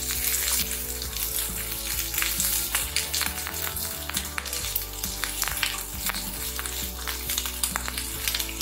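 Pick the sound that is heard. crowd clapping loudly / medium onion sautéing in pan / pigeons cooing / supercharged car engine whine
medium onion sautéing in pan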